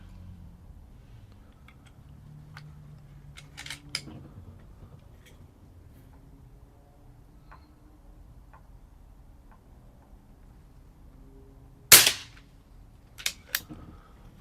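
A single Umarex Zelos .25 air rifle shot through a moderator gives one sharp, muffled crack followed by a couple of quieter follow-up clicks, set against a low, quiet background with no talking.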